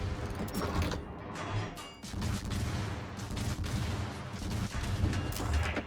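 Gunfire in a video game cracks out amid continuous loud, dense mechanical battle noise, with repeated sharp reports layered over a heavy rumbling background.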